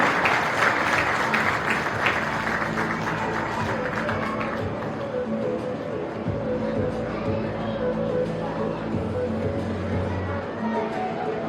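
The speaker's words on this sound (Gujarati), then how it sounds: "જોરદાર તાળીઓ થઈ જાય અરુણભાઈ માટે." Applause breaks out from an audience at a Gujarati community gathering, steady and dense throughout, with faint voices murmuring underneath.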